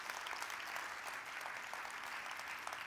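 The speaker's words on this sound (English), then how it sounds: "Please give a huge round of applause for all the people that make this happen" Sustained, even applause from a luncheon audience at the United States Conference of Mayors annual meeting, many hands clapping steadily at a distance in a large hall.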